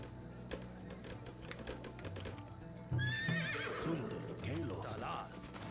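Horses in the real-time strategy game Empire Earth give a loud, shrill whinny midway, with clip-clop hooves and clicking interface sounds around it and someone talking throughout.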